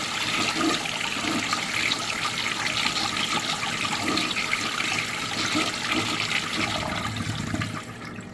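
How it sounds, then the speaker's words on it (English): A Briggs Pennton P-trap washout urinal from the 1970s to 1990s flushes with its handle held down, giving a loud, steady rush of draining water for several seconds that eases off at the end. "Let me demonstrate by holding the handle down for at least 10 seconds."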